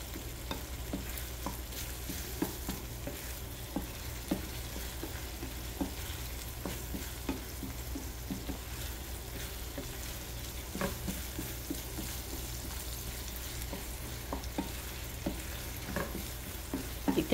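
Eggs and corned beef frying in a pan give a faint, steady sizzle, with soft scraping and tapping from stirring scattered throughout.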